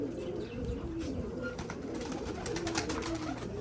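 Pigeons coo in low, rolling murmurs, steady and continuous, with faint flutters and chirps in the background.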